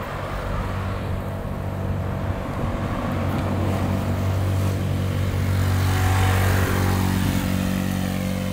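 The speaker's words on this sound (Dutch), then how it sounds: "er komt een scooter nog aan achter." Engine of a scooter coming up from behind on a road, a steady low hum that holds through and swells slightly as it nears, with no talking.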